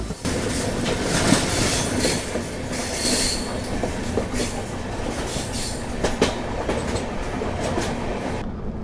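The Chennai Rajdhani Express rolling down a gradient, heard from on board as a continuous close rumble with rhythmic wheel clatter and intermittent high wheel squeals, no talking.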